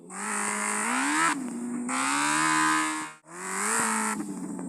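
Motorbike engine sounds from the game Gangster Vegas rise and fall in three repeated synthetic revving surges with brief cutoffs between them, loud and clean with no talk.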